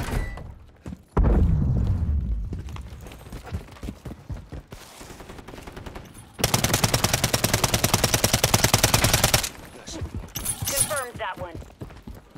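A deployed remote turret in Call of Duty: Modern Warfare III fires a dense, rapid, evenly spaced stream of shots for about three seconds, loud and close, amid scattered thuds and clatter of a Kill Confirmed match.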